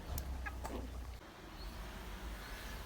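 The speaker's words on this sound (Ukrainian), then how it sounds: "ще ось ці півники можемо продати" Roosters and hens kept for sale cluck in a few quiet, short calls early on, followed by faint low background noise.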